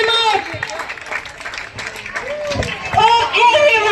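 Spectators at a school sports-day sack race clapping and cheering, scattered applause and crowd chatter with children's shouts, mixed with a voice talking.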